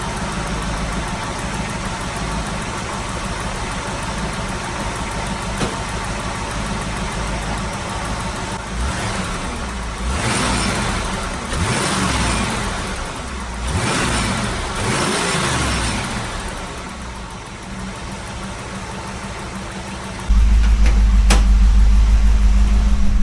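A Pontiac Trans Am engine idles with a steady low rumble and faint exhaust ticking, then the engine note rises briefly toward the end.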